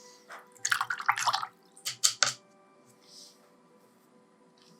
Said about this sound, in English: I might need just to wash off my brush